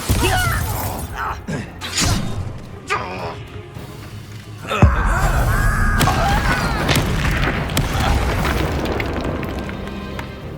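In the Hogwarts Legacy video game, a Bombarda spell goes off as a heavy, booming blast with shattering debris, followed by a rumbling tail and several smaller impacts amid battle sounds.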